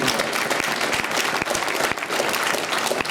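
Audience applause at a conference opening session, dense continuous clapping from a large crowd filling the hall, steady and loud throughout with scattered sharper claps.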